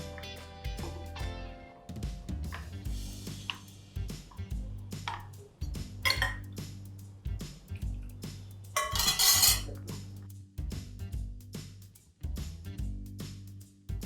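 Tomato makhani gravy stirred in a pan, with a spoon repeatedly scraping and clinking against the metal in an uneven rhythm over a low steady hum, close and moderately loud.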